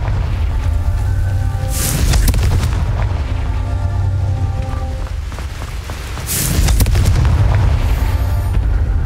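Two heavy booming blasts from the Confringo spell in Hogwarts Legacy land several seconds apart, each a sharp loud burst with rumbling decay over a steady low game ambience.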